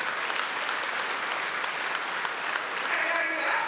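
A crowd at a prayer breakfast applauds and shouts in response, a dense, sustained roar of clapping and voices at a steady, lively level from start to finish.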